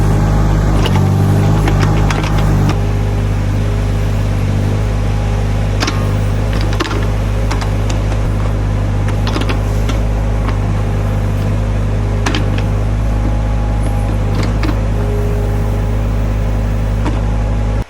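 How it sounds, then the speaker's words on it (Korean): A new Yanmar SV10 1-ton mini excavator with a 12.6-horsepower engine runs up in revs, giving a steady, loud, close mechanical drone with clicks and rattles throughout and no talking. "자, 그럼 엔진음 한번 들려드릴게요."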